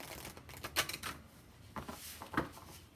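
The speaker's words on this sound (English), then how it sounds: "let's go ahead and shuffle the Black Angel cards" Rapid riffling and flicking of a deck of oracle cards being shuffled, in short bursts of crisp papery clatter at close range.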